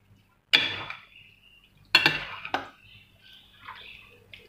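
A utensil clinks and scrapes against a bowl while stirring macaroni salad with mixed fruit, raisins and coconut: three sharp knocks close by, then softer scraping and light taps.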